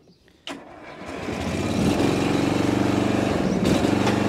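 A Toro TimeCutter 16-44 zero-turn riding mower with a 44-inch deck cranks and fires up, its engine catching abruptly and settling into a loud, steady running drone close by.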